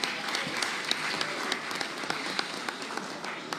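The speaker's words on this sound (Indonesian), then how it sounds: "kita berikan tepuk tangan yang meriah" Applause from a seated audience at an Indonesian political party announcement, a quiet, distant patter of clapping with a few sharper individual claps standing out.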